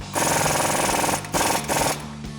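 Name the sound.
impact wrench with 35mm socket tightening axle nut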